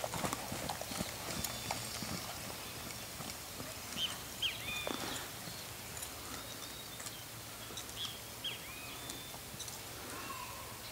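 Hooves of a 6-year-old, 1.70 m purebred Lusitano horse clip-clop in a steady rhythm on a hard surface, fairly quiet, with faint bird chirps in the background.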